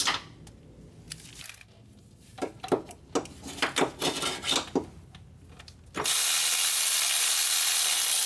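Ratchet wrench clicking in short bursts while loosening 14mm motor mount bolts on a Honda 3.5L V6 engine, close and crisp, followed by a loud steady hiss-like mechanical noise that takes over near the end.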